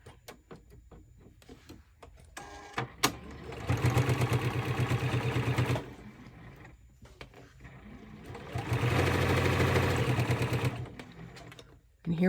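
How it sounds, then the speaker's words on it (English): A sewing machine stitching down the side seam of a zippered fabric pouch, running in two sustained bursts of rapid mechanical whirring separated by a quieter pause with faint handling clicks, close and fairly loud. "we're just going to sew all the way down."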